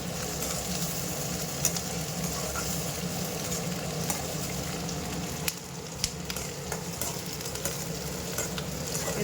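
Curry leaves sizzle and fry steadily in a hot pan, with a constant crackling hiss and occasional sharp clicks of stirring.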